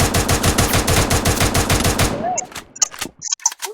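Rapid automatic gunfire in the Free Fire video game, a loud evenly spaced burst of shots lasting about two seconds, then a few scattered clicks and game effects.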